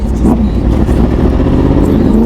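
A loud motorcycle exhaust revving close by, a throaty roar that holds steady for a couple of seconds.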